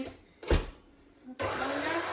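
A brief knock sounds, then an electric mixer whirs on, steady and close, as it mixes bear paw cookie dough with flour.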